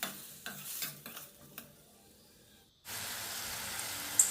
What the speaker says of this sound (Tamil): நான் 2 பெரிய வெங்காயத்துக்கு 4 தக்காளி சேர்க்குறேன். இதையும் நல்லா வதக்கி விட்டுக்கலாம்.